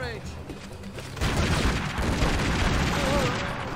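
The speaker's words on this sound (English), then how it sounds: "They're throwing grenades." Gunfire and grenade blasts from the video game Tomb Raider Legend erupt as a dense, loud burst of booming explosions and rapid shots that carries on after a quieter start.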